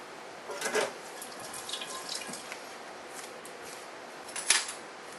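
Cherry wine mixture poured through a fine mesh strainer, a soft trickling and splashing with a few small clinks and taps, fairly quiet throughout.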